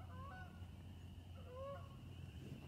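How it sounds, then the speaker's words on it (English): Geese honking outdoors on a farm, several faint distant calls in a loose sequence over a steady low background hum. "Oh, that's geese."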